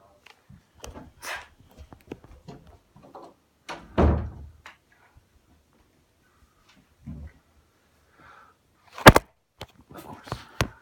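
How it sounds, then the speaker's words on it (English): A door thuds shut indoors with one solid knock near the middle, followed later by a sharper bang. Scattered quiet taps and shuffles fill the gaps in an otherwise silent room. "Door."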